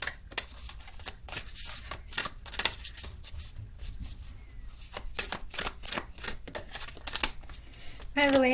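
Cards from a reading deck are shuffled and cut near the listener, producing a dense run of sharp flicking and slapping bursts with brief pauses, fairly loud and close.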